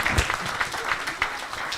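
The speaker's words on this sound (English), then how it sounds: "Give a big round of applause again to these wonderful children" Applause from an audience for children performing at a Hare Krishna Vyasa Puja festival, a steady patter of clapping hands with a few louder claps standing out, fairly close and continuous.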